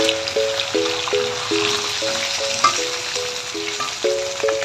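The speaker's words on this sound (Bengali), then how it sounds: "ভাজা হচ্ছে, লাল লাল করে মাছটা ভাজতে হবে" Pangas fish frying in hot oil, giving a steady, close sizzling hiss throughout, with a repeating tonal melody playing softly in the background.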